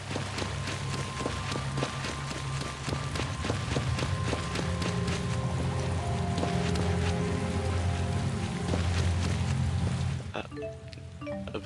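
Steady rain in Tales of Xillia 2 patters and drips continuously, with scattered droplet hits and a low rumble underneath; no talking.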